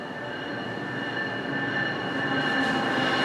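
Amtrak train at the BWI railroad station, a steady broadband rumble of rolling wheels and engine that grows slightly louder as it nears, with no voices.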